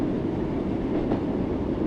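A Class 484 electric train in Train Sim World 5 coasts downhill into the Shanklin platform, a steady rumbling rolling noise from the wheels and cab, moderately loud and continuous with no talk.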